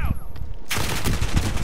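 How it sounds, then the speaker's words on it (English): Game gunfire from Call of Duty Warzone on the Modern Warfare 2 map: a dense, sustained burst of rapid shots that starts abruptly and keeps rattling loud and close until the end. "Where did he shoot me from?"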